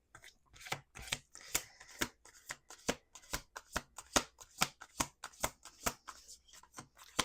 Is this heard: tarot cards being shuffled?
yes